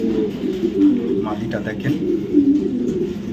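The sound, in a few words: racing pigeons cooing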